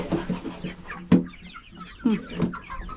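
Backyard homestead chickens clucking close by, a run of low repeated clucks with a few louder squawks, no speech over them.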